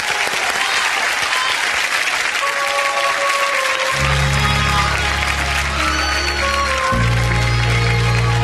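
Loud, sustained studio audience applause at the close of a Spanish-language television show, a dense continuous wash of clapping as music begins underneath.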